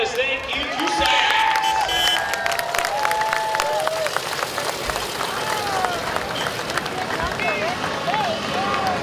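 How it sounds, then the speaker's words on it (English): A parade crowd at a Pioneer Days event claps and cheers at moderate distance while an announcer talks over a loudspeaker, with scattered whistles and calls breaking through the clapping. "Give him a round of applause"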